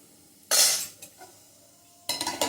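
A spoon stirring boiling rice in a pot, with two bursts of scraping clinks against the metal separated by a quiet gap, close and clear.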